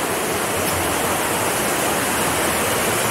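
River water flows steadily at Kamagi Kibunut, a dense, even rushing wash that stays loud and unbroken throughout with no voices.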